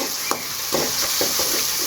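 Ginger, garlic and a little onion fry in a pan, giving a continuous close sizzle with a few scraping stirs of a utensil and no voices.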